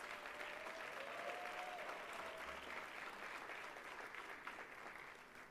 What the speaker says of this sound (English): Can we have a round of applause for those graduates,